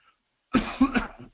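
A few harsh, close coughs in quick succession from a speaker with a cold, after a short silence, loud and dry with no talking.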